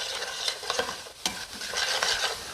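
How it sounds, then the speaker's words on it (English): Onions stirred through a spice mixture in a pan for curried chicken, with close, loud scraping strokes over a soft sizzle and no talking. "So we'll stir them to get them coated with all of this spice mixture that's on the bottom of the pan"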